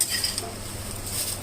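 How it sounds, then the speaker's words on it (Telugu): Roasted dry red chillies and curry leaves rattle and clink as they are stirred in a pan after the stove is switched off, a steady, close, dry scraping rustle with no voices. "కాస్త చల్లారితే గలగల ఉంటుంది చూడండి ఇట్లా"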